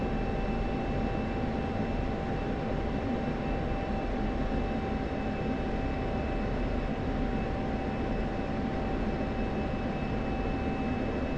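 A steady, continuous jet engine roar from an F-16 Falcon in flight within the DCS World combat flight simulator, droning evenly with a faint tonal whine and no change in level.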